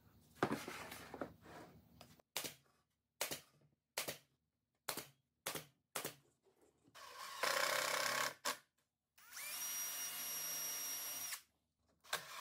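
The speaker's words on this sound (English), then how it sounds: "Pre-drilling for the screws will help prevent the screws from breaking and the plywood from splitting." Repeated short bursts of a power drill whirring into plywood as it pre-drills screw holes, with pauses between, then two longer high-pitched drilling runs.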